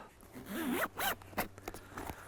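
The zipper on an olive green Korda Compac camera bag for carp fishing is pulled open in a few quick, close ripping strokes, with no talking.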